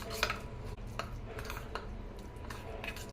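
Spoon clinking and scraping in a bowl while crushed garlic chutney with chili powder is stirred into sesame oil, with repeated close taps and scrapes over a low steady hum, no talking.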